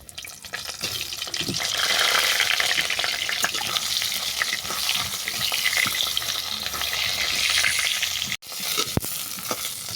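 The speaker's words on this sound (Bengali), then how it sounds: "এরপর ভেজে নেব এঁচোড়।" Raw jackfruit frying in hot oil, a loud, dense, continuous sizzle that swells and crackles steadily, briefly dropping near the end before resuming.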